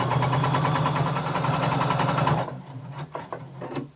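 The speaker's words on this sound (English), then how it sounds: "Now we're going to sew in 3/8 of an inch seam allowance." A sewing machine runs steadily, stitching a 3/8-inch seam allowance in a rapid, even whir for about two and a half seconds, then stops, leaving a few faint clicks and handling sounds.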